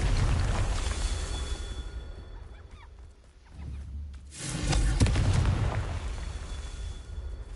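A Confringo blasting spell in a video game, a loud roaring explosion that swells after a brief lull, with a heavy rumbling tail over dense noise.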